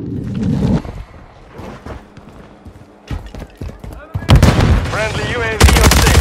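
Rapid gunfire in Call of Duty: Modern Warfare 3 Ground War, loud bursts of automatic shots alongside shouted voices and dense battlefield clatter throughout.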